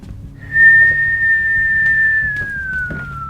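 A person whistles one long, steady note close by. It holds for about two seconds before gliding slightly downward.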